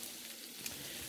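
Mussels hitting hot melted butter in a pot, giving a short, even, hissing sizzle with a faint crackle, close and alone.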